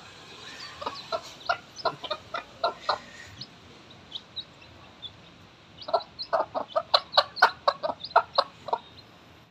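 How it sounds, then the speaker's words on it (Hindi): A hen clucks in quick rhythmic bursts, a short run first and then a longer, louder series, close by with no talking. "मैंने मुर्गी बाहर निकाल दी है, सुबह से बंद थी"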